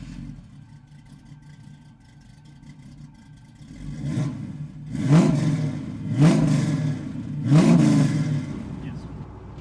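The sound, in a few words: 1967 Chevrolet Camaro RS engine revving during drive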